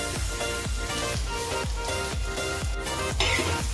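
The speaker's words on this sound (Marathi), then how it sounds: "छान असा पिंकसर होईपर्यंत कांदा आपण तेलावरती परतून घ्यायचा आहे" Onion sautéing in oil until pink for a Maharashtrian amti curry, a steady close sizzle with regular soft scraping strokes of a spatula stirring the pan, no talk.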